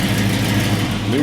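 A truck engine with a new exhaust revs loudly and steadily at close range, its deep drone holding through the whole short burst while a person talks over it.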